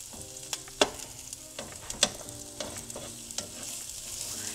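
Onions frying in a pan while being stirred, soft sizzling broken by sharp clicks and scrapes of the utensil, fairly quiet and close.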